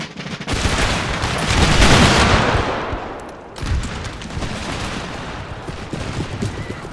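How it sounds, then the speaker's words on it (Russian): Musket volley fire from massed infantry lines in Empire: Total War, a dense rolling crackle of many shots blending into a loud roar that swells, fades briefly, then resumes as scattered continuing gunfire. "мы открываем стрельбу"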